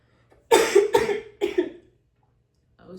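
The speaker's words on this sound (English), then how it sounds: "try not to cough" Three sharp coughs in quick succession, close and fairly loud, then quiet.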